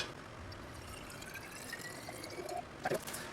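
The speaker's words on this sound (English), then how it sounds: "So let me fill up my water. Here we go. Pour our water in." Water pours steadily into a glass bottle, a soft continuous trickle with a few brief splashy bursts near the end, quiet and close.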